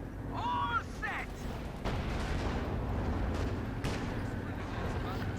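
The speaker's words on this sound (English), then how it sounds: "On the Calliope barrage. Right there around the Panther and any units nearby it." Rocket artillery from a Calliope barrage in Company of Heroes 2, a 1v1 OKW versus USF match, rumbling as a dense continuous roar of explosions and whooshes with short whistling rocket launches near the start and sharp impacts throughout.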